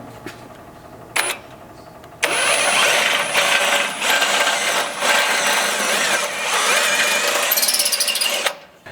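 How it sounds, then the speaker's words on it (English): A power drill with a step bit bores into a Toyota Sequoia's steel factory frame, whirring steadily for several seconds after a couple of brief short bursts, loud and close. "We're going to achieve this with a step bit or a unibit."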